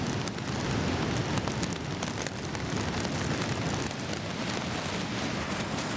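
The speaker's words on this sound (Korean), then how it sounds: "거대한 폭포의 굉음과 물보라의 위용에 그만 기가 질린다." Victoria Falls waterfall in Zimbabwe roaring with heavy spray, a dense, steady broadband rush like pouring rain that fills the whole scene without letup.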